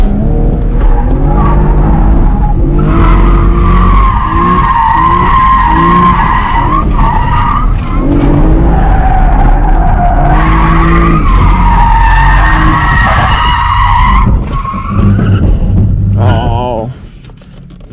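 An automatic V6 Camaro drifting on a track, tires skidding and squealing in long loud wavering screeches over the engine, ending as the spin dies down, with voices talking inside the car.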